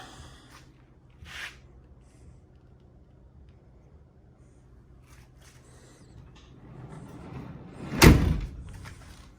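A few faint clicks and rustles, then a rising movement ending in one loud, solid slam of the strut-assisted upper tailgate door on a 1957 Chevrolet 150 Handyman station wagon, close by.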